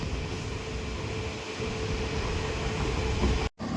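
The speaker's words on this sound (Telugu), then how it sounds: "ఈ ట్రైన్ అయితే కొంతసేపు ఆపి మళ్ళీ స్టార్ట్ అయిపోతున్నాడు" A Konkan Railway train pulling away again after a stop gives a steady broadband rumble and rush of moving carriages, continuous and fairly even, with a brief dropout near the end.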